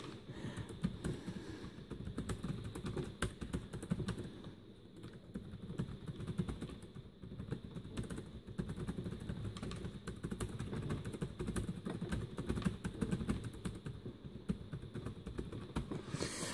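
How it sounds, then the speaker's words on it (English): Steady key clatter from an ASUS Transformer Book T100HA keyboard, a continuous run of close, fairly quiet taps lasting throughout with no voices. "So the keyboard on this is actually really quite good."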